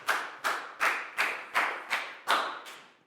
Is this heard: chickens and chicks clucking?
no